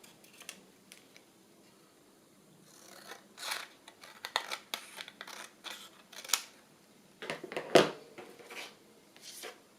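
Scissors cut paper for a journal card in a quiet room, with a sparse scatter of crisp snips and rustles, some single and some in quick bursts, growing busier toward the end.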